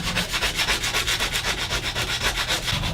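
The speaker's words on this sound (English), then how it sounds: "Now I'm taking some 80 grit sandpaper and sanding the whole handle of the knife." Sandpaper of 80 grit rubbing steadily back and forth over a brass and ebony knife handle, a close, even rasping stroke repeating about every fifth of a second with no pauses.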